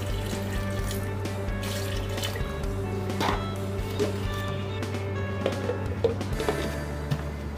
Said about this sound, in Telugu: ఇందులో 1/2 లీటర్ వాటర్ వేసి మూత పెట్టేసి జ్యూస్ చేసేద్దాం